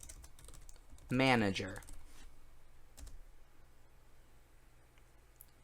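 Quick, light clicks of typing on a computer keyboard come in short bursts at close range, with someone briefly speaking over part of it against a quiet room background.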